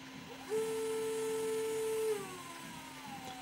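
A small brushed motor in a micro RC crawler, run on a Modellbauregler ESC at 2S, gives a short, faint electric whine. The pitch rises smoothly, holds steady for about a second and a half, then winds down.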